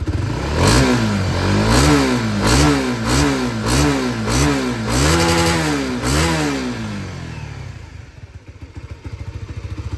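A 2021 Kawasaki ZX-25R motorcycle engine revs hard and close, rising and falling in a quick repeated series of blips before dropping back to a rough, pulsing idle.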